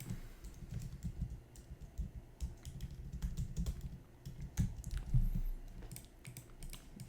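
Fast, irregular clicking of a computer keyboard being typed on while writing code, close and fairly quiet, with bursts of keystrokes and short pauses and no talking.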